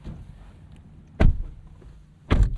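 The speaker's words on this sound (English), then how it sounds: "Solid door thunk." Two solid car door thunks from a 2026 Nissan Sentra SR, heavy and muffled, separated by a quiet interior hum, no voices.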